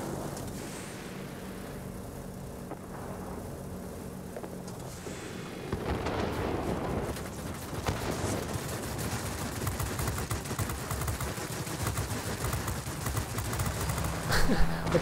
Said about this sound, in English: The cannons do sound pretty good.